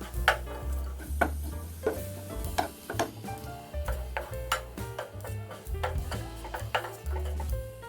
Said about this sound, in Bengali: এখন আমি এর মধ্যে চপ করে রাখা পালং শাকটা দিয়ে দিচ্ছি।